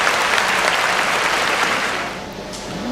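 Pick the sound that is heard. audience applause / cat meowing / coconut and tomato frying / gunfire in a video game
audience applause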